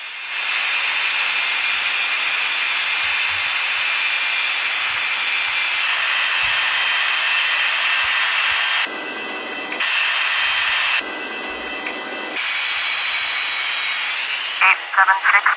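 A jet aircraft roars in a steady, loud broadband rush as it takes off from runway 09, with brief dips and shifts in the noise partway through and no talk.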